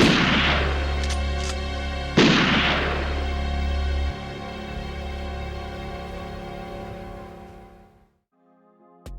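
Two sharp gunshots in a reenacted execution scene, each a loud broadband crack with a long ringing, reverberant tail, the second about two seconds after the first, then a low rumble fading to near silence.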